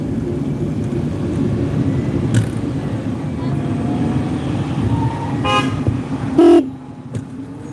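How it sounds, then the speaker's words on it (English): A short car horn honk rings out over steady road traffic noise during a commute, with a quieter toot earlier and engines rumbling throughout. "You honk, guy, honk"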